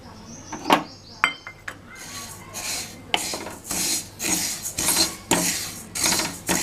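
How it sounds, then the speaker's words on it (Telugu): Sesame seeds dry roasting in a pan for sesame laddu, stirred over a low flame, giving repeated scraping and rustling strokes with a few sharp clinks of utensil on metal, close and moderately loud. "ప్యాన్ పెట్టుకొని నువ్వులు డ్రై రోస్ట్ చేసుకోవాలి"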